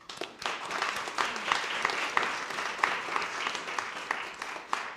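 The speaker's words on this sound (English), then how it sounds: "Great round of applause." People at a county freeholders ceremony applaud a high school marching band, a dense, even stretch of clapping lasting several seconds at moderate volume with occasional louder individual claps.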